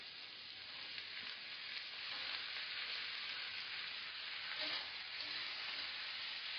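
Tomatoes hit a hot pan while cooking matar paneer, and a steady, close sizzle and hiss keeps going without a break.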